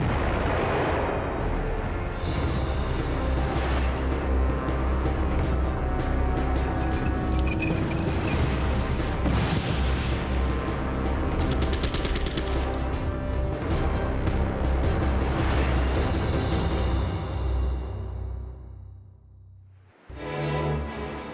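German 88mm Flak anti-aircraft gun used as a high-velocity gun, with loud sustained booming and rumbling blasts filling most of the stretch, fading briefly near the end before another burst.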